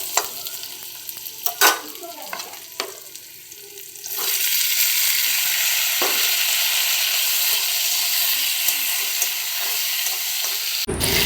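Spices with green chilies, salt, turmeric and red chili powder sizzle and fry in a hot pan, with scraping stirs early on, then a steady loud hiss of frying throughout, no talking.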